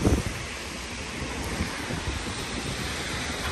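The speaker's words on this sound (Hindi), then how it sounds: "इतनी बारिश है" Heavy rain pours down outdoors in Taif, Saudi Arabia, as a dense, steady hiss that fills the whole clip at moderate loudness. A brief thump sounds at the very start.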